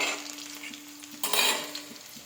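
Marinated meat hisses and sizzles as it is added to a hot pan of browned onions, with a louder surge of frying partway through and faint stirring clinks.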